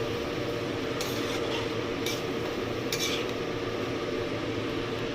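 Mutton tipped into a pan of frying chopped onions and stirred, giving a steady broadband sizzle throughout with a few brief sharp scrapes of the spoon against the pan, close up and without talk.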